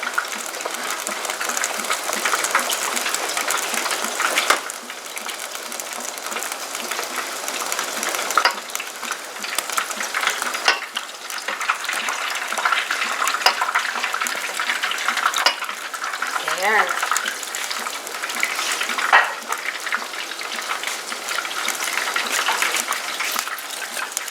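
Eggplant goes into a pan of vegetables cooking in coconut milk, setting off a steady sizzle and bubbling that runs continuously, with occasional stirring scrapes and clinks of a utensil against the pan.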